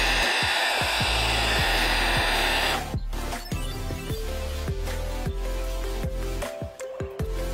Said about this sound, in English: what I'm gonna do is heat it up first just to make the glue a bit gooier so it comes off easier